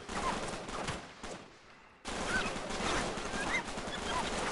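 Sniper gunfire in the game Uncharted, sharp, sporadic shots and ricochets over a dense battle din that briefly drops away before returning at full loudness, with no voices.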